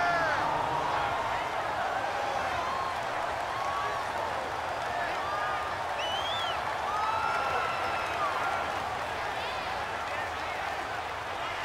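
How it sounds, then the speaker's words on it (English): A stadium crowd in Madden NFL roars and cheers steadily ahead of a big third down, a dense wash of voices under a commentator's speech. "the crowd getting into it as we come up on a big 3rd down"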